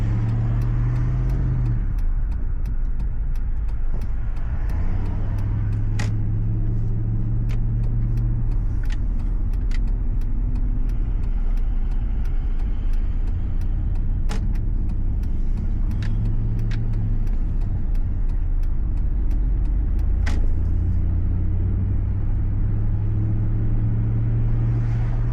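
A Jeep SRT8 with a V8 engine runs steadily, producing a deep continuous rumble with small rises and falls in pitch, heard close and fairly loud throughout, with no voices.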